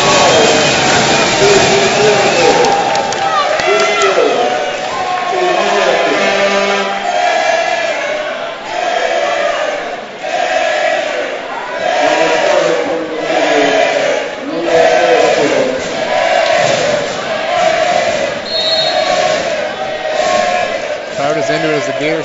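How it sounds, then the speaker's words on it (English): Basketball crowd cheering loudly in a university gym during a Bishop's Gaiters vs Laval Rouge et Or game, a sustained roar with a commentator talking over it. "The crowd is going crazy."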